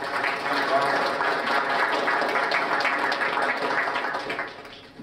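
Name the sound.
applause at conference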